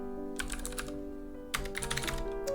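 Rapid keystrokes on a computer keyboard come in two close bursts of dense clicking, with a short pause between them, and no voices.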